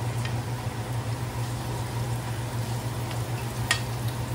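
Homemade calamari fries in hot oil with a steady, dense, close sizzling hiss and a low hum beneath it; a single brief crackle pops out near the end.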